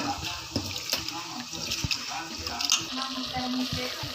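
Rice and roasted moong dal being washed in water, with continuous sloshing and trickling, small splashes and sharp taps against the vessel, heard close up.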